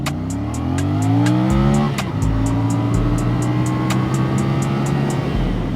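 A CFMoto CLC 450 cruiser motorcycle accelerates hard through its gears, engine pitch climbing in loud sweeps, dropping sharply at a shift and climbing again, with a steady rhythmic ticking over the close, strong exhaust note.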